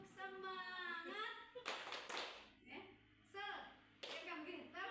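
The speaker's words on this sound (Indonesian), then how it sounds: "Bisa diikut ya? Tepuk semangat." A class following along with the 'tepuk semangat' spirit clap in an Indonesian school session: short bursts of rhythmic hand claps alternating with a voice calling out the chant, moderately near and quiet.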